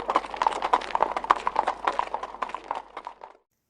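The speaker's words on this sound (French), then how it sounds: "je vais voir un autre petit cheval." Horse hooves clip-clopping at a stud farm, a steady rhythmic series of close, crisp hoof strikes that continue evenly and then stop abruptly.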